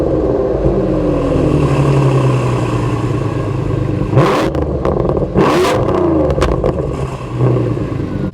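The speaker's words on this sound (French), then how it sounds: "Je vais placer le micro à côté de l'échappement et je l'ai mis en échappement libre" Renault Mégane 4 RS on a straight-pipe exhaust, recorded right beside the tailpipe, idling with a loud, steady rumble and then giving two sharp blips of the throttle that crackle before settling back to idle.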